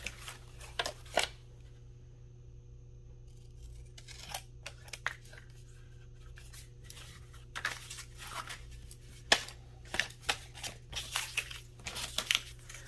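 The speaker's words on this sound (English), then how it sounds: "Why don't we go ahead and cut the excess off?" Scissors cut the excess paper off journal scraps with scattered, crisp snips and rustles, faint and close, in irregular bursts over a quiet low hum.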